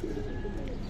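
Giribaz pigeons coo softly at a pigeon market, a brief low murmuring call close by over a steady background hum.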